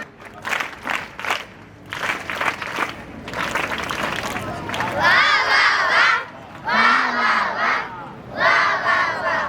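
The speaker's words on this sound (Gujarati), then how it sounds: "આપણે 3 તાળી, 3 ચપટી અને 3 વાર વાહ વાહ" A children's fair audience at a Gandhi Mela gathering at Uka Tarsadia University claps and snaps in bursts, then shouts a loud chanted "wah wah" three times in unison, crowd voices rising and falling close by.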